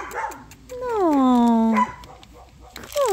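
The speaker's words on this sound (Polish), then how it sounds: "w gospodarstwie jest 17 psów" Dogs on a farm kept on chains, seventeen in all. One drawn-out, rising yelp-bark stands out near the middle, with shorter yips around it, while people talk close by.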